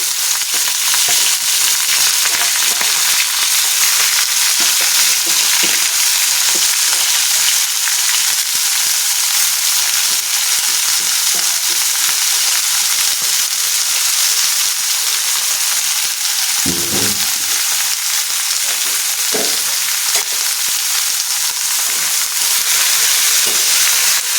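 Chopped basale (Malabar spinach) leaves fry in a pan with a dense, steady, loud sizzle, broken by occasional brief stirring scrapes, and no talking.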